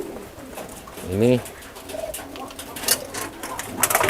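An adult pigeon gives a single short coo close by, followed by rustling and handling noises, with someone speaking briefly.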